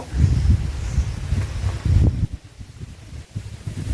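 Cold wind blowing outdoors during freshwater net retrieval, heard as low, gusty buffeting against the microphone in uneven bursts, loudest in the first two seconds and then easing to a softer rush.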